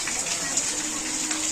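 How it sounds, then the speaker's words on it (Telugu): Heavy rain pours over a village around three o'clock at night, making a steady, dense hiss that holds level without a break. "ఫుల్ వర్షం పడుతుంది."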